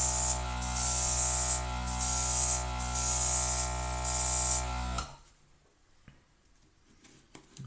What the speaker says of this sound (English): just wanted to use an airbrush, just trying to get a smoother finish basically if I can